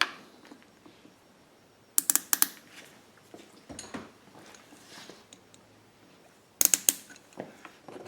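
A white hose clamp is cinched down onto a fuel kit hose for a Pulsar PGD95BiSCO generator, giving quiet ratcheting clicks and creaks with two sharper bursts of clatter, close up and with no talking.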